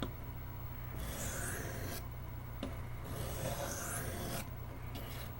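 A Camillus electrician's knife is sharpened with steady, rhythmic rasping strokes, roughly one per second with brief pauses between, close and fairly quiet.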